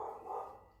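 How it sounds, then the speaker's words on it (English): A neighbor's dog gives a single short, faint bark from a distance, heard once and then fading. "please don't mind if you hear some barking there. It's my neighbor."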